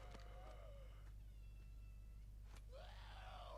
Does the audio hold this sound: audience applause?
no